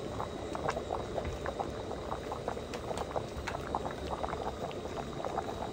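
Thai pork sour soup seasoned with fish sauce bubbles vigorously in a pot, a close, continuous rolling boil with frequent small pops and gurgles, no voices.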